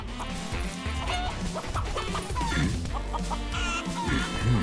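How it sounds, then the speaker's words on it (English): Chicken clucking in the Final Fantasy VII Rebirth video game, a run of quick, busy clucks and squawks layered over constant game music and effects. "Where'd the chicken go? Did it run back to town?"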